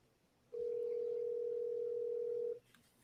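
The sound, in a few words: telephone ringing tone on an outgoing call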